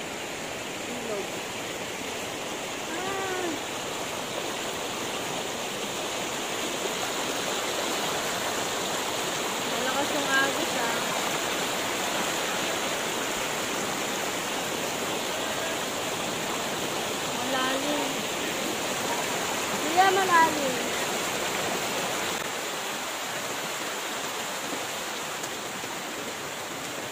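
Rushing water of Martin Falls in Olongapo City pours in a steady broadband roar, close and continuous, with occasional faint voices and small splashes.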